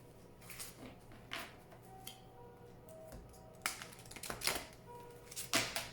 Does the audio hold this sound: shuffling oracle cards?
yes